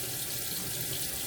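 Water running from a sink tap while containers are rinsed out before going in the trash, a steady close hiss of flowing water with no talking.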